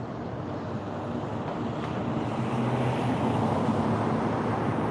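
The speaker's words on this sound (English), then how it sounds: "It's a little windy out here." Steady low rumbling wind buffeting a microphone outdoors at USC Village, a constant broadband roar with no speech, holding evenly throughout.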